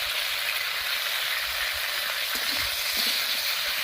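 Bitter gourd fries in a pan with a bit of salt and turmeric, giving a steady, dense sizzle up close, with a few soft scrapes of stirring near the end.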